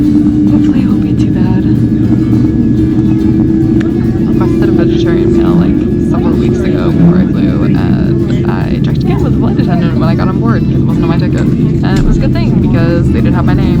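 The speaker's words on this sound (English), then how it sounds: "We are finally getting ready for takeoff on this very long flight" Steady, loud cabin rumble and hum fill a passenger airliner waiting for takeoff on a long flight, a constant drone throughout with faint voices and small thumps mixed in.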